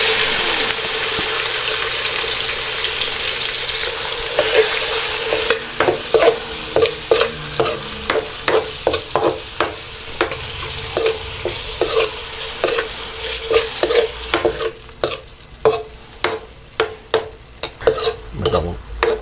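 Chicken liver with garlic stir-fried in a hot pan, a loud continuous sizzle broken by a run of rhythmic scraping spatula strokes, close and with no voices.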